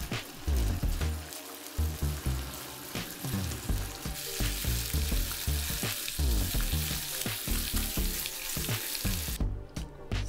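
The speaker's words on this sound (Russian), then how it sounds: "Обжарим бекон до золотистой корочки." Bacon sizzles loudly in a pan, crackling and popping continuously with occasional stirring scrapes, close and steady throughout.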